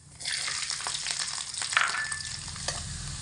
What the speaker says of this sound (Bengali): রসুনগুলোকে ভাজা ভাজা করে নিয়েছি।